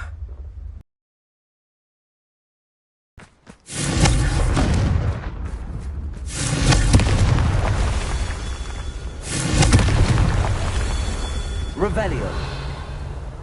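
Confringo fire spell explosions in Hogwarts Legacy, several loud booming blasts in a row after a brief silence, under game action noise.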